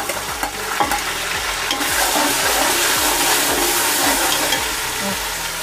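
Onions and paste fry in a pan for chicken pulao, giving a loud, continuous hiss of sizzling oil that holds steady throughout.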